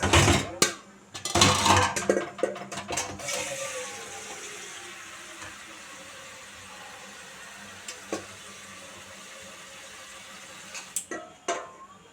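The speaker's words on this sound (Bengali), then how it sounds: "আমি অনেকটা পানি নিয়ে নিয়েছি, দেখেন আমি ঢেলে দিচ্ছি।" Water pours and splashes into a metal cooking pot for chicken biryani rice near the start, with a few pot clanks, then a low steady simmer-like hiss.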